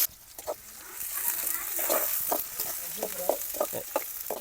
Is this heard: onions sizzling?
yes